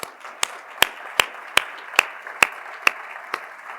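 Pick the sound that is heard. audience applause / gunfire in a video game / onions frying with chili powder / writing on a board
audience applause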